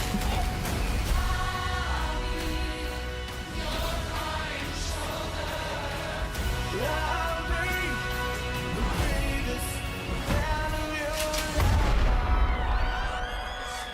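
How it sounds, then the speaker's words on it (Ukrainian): Gunshots and booming blasts from an action-comedy film about a wild wedding hit in sharp bursts, mixed with a music score and other effects at fairly loud, dramatic volume. "Припини стріляти в свою сестру."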